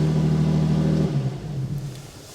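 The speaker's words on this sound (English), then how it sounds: "I'll turn the engine off so we don't gas ourselves." A Jaguar F-Type sports car engine idling with a low steady rumble that settles and softens slightly partway through, heard close up with no talk.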